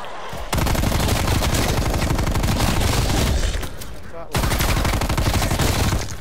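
Heavy LMG machine gun fire in Call of Duty Black Ops Cold War zombies rattles out in two long, loud, continuous bursts at close range, separated by a brief pause.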